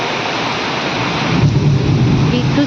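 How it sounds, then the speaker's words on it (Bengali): Heavy rain falls in a steady, dense hiss, loud and close, with a low rumble of thunder swelling near the end; no one talks over it. "দেখো কি বৃষ্টি হচ্ছে"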